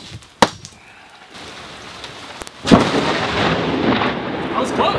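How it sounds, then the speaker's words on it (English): Deep, rumbling thunder from a passing thunderstorm, with a sharp crack early on and then a loud, sustained roll that swells and holds to the end. "I don't know if we should really cast rods until this storm goes away, Matt."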